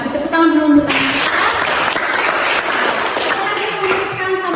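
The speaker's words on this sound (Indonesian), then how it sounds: "Tepuk tangan dulu untuk teman kita." Classroom of students applauding a classmate, a loud, dense burst of clapping with a voice speaking over it at the start and again near the end.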